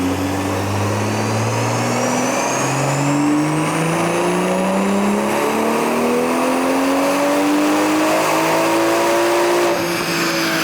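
Turbocharged BMW M340i on a dyno, running a JB4 tune at 28 psi of boost, roaring loud and close as it revs in one long climbing pull through the gears with rising engine tones.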